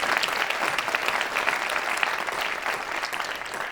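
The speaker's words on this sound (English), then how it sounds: "And another round of applause for Senator Flake" A large audience at a public forum on the Supreme Court applauds in a thick, even wash of clapping that holds steady throughout without a break.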